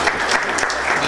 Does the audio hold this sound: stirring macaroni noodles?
no